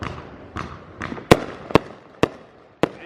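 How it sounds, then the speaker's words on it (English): Fireworks pop outside on the Fourth of July in a series of sharp cracks, about seven irregularly spaced bangs with a few louder, nearer reports standing out over a faint background. "But as y'all can hear, it's fireworks outside popping."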